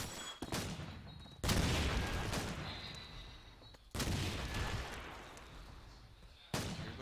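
Bursts of gunfire and grenade blasts ring out in a competitive shooter match on a bombsite, loud sharp volleys at the start, around four seconds and near the end, with a steady rumbling wash of shots and smoke in between.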